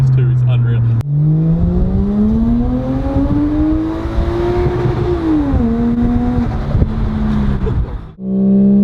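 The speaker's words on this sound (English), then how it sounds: "the induction noise too is unreal" Induction roar from a Toyota Crown with a 1JZ engine, three people aboard, accelerating hard: a loud, rising tonal drone that climbs through the gears, dips briefly on a shift, then cuts off as the throttle closes.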